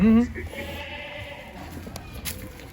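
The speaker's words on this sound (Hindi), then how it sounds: "4 दांत का बकरा है दद्दू भाई" A goat bleats once at a goat farm, a short, loud, close cry at the very start. Faint background noise follows, and people talk nearby.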